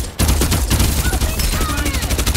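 Rapid automatic gunfire in the video game Farlight 84: loud, continuous bursts with dense, rhythmic shots throughout, plus faint ringing tones behind.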